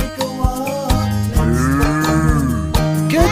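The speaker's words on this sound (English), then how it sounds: "Goodbye, cow." A farm cow gives a long, loud moo over a bright children's song backing, heard up close with no talking.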